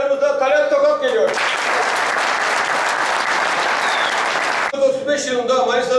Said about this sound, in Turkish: alkışlarımızda Talat Tokat geliyor.